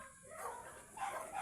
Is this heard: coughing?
no